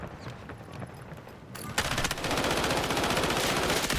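Automatic gunfire in the shooter game Delta Force: quieter background for about a second and a half, then loud, rapid, sustained bursts of shots that continue to the end.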